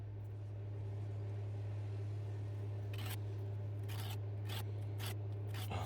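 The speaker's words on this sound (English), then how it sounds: "Gonna buff down it with this little sharpener here." A knife blade is drawn across a small handheld sharpener in a series of short, crisp scraping strokes, faint and close, over a steady low hum.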